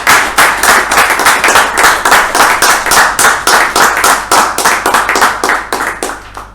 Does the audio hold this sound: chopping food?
no